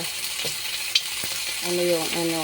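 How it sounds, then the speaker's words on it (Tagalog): Meat sautés in a dry pan with no oil, giving a soft sizzle with a few sharp stirring clicks, brief and fairly quiet, while a faint voice hums or speaks briefly near the end. "lagi ko pong ginagawa pag nagigisa ay inuuna po ang karne na wala pang mantika"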